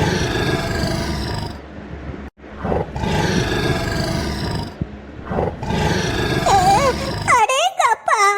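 An angry cartoon lion held in a zoo lets out long, loud, rumbling roars that continue almost the whole time, with brief breaks between them. Near the end a high chirping sound cuts in.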